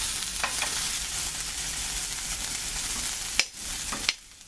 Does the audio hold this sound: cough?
no